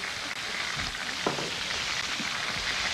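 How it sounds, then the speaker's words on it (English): Beef stir-frying in a wok for beef tomato chow mein, a steady broad sizzle running throughout with a few faint stirring scrapes, close and even in level. "Then you keep on stirring your beef until they all change color and ready"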